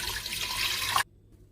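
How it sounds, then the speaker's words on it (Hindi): Water poured from a tap into a cooking pot of mutton for pulao, a steady close rushing splash lasting about a second before cutting off abruptly. "पानी डाला।"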